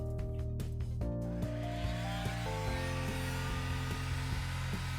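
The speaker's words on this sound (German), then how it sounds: "Ich benutze jetzt hier eine Heißluftpistole" A heat gun blows steadily on an iPhone 7 to soften the adhesive before a battery replacement, giving a continuous whirring hiss with a motor whine that holds for the whole stretch, close and even.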